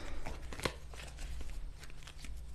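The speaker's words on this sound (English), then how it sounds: "I'm gonna shuffle one more time" Tarot card decks are shuffled by hand, giving quick riffling, papery flutters and soft slaps in a close, quiet room with no talking.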